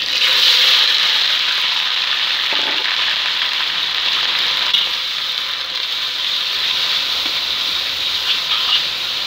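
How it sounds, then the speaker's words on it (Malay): Ground spice paste sautéing in hot oil in a wok for coconut serunding, a loud continuous hissing sizzle that stays steady throughout, close up with no voices. "Okey, sekarang adik panaskan sedikit minyak ke dalam kuali."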